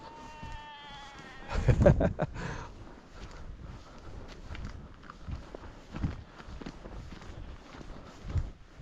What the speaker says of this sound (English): Like that sheep there, it just sounds like it's getting strangled